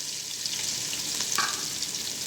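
Garlic and chopped ginger sizzle steadily in hot oil in a pan while being cooked to light golden for a Pahari pulao, a constant close frying hiss with a brief stir around the middle.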